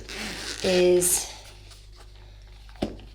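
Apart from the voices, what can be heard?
zipper of a case being opened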